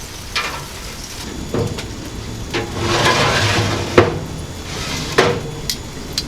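Metal smoker shelves on a Lone Star Grillz offset smoker clank and scrape as they are pulled and swapped, giving several sharp metallic knocks with sliding scrapes between them, close and fairly loud, with no talking.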